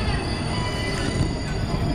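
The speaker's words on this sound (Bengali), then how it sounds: "এখন 7:32 আর আমাদের ট্রেন এসে দাঁড়ালো বিলাসপুর জংশনে।" A 12222 Howrah-Pune Duronto Express pulls into Bilaspur Junction on a rainy evening, a steady heavy rumble of rolling wagons with a thin metallic wheel squeal on top and faint voices in the background.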